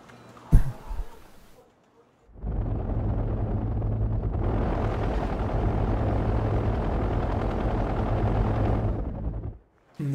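Helicopters flying in the video game Wargame Red Dragon: a sharp burst near the start, a short lull, then a loud sustained rotor roar for about seven seconds that cuts off abruptly.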